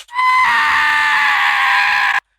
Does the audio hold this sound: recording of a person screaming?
yes